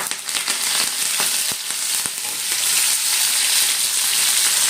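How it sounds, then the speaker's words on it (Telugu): Onions, green chilies, ginger and curry leaves frying loudly in a pan for wheat rava upma. A dense sizzle runs throughout, with quick scraping stirs and clicks in the first couple of seconds. "అలాగే పచ్చిమిర్చి మిక్స్ చేసేసుకోవాలి ఫ్రెండ్స్ మంచి మగ్గిపోవాలి ఆనియన్స్ పచ్చిమిర్చి ఇవన్నీ"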